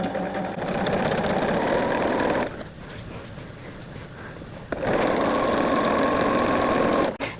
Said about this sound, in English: let me put that needle down in that, get a couple stitches in there